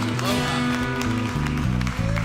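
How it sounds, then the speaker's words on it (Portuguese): A church congregation claps and cheers in praise, a broad steady patter of applause blended with sustained worship music and voices throughout. "Aplaude ao Senhor"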